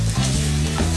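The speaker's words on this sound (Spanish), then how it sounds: "mientras yo estoy sudando la cebollita, le estoy poniendo un toquecito ligero de sal" Onion sweating in a hot pan gives a steady, close sizzle with a low hum underneath, continuous for about a second.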